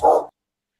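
One short, loud dog bark close by, followed by silence.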